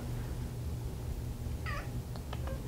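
A Persian cat with a flat, smooshed face gives a short meow near the middle, then a few faint, brief chirps, over a steady low background hum.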